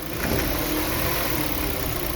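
Hyundai Veloster engine making a fault noise at low rpm while pulling away uphill, a steady mid-pitched engine drone with broadband rumble, close and continuous, no talking.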